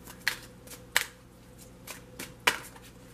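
Tarot cards are shuffled by hand, giving three sharp snapping riffles and a few softer flicks over about three seconds, close and alone without talk.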